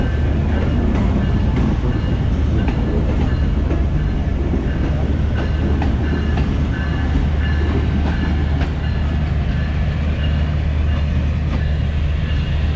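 The Shalimar Express of Pakistan Railways pulls out nearby, a loud, steady rumble of wheels and carriages with faint rhythmic clacking that runs throughout.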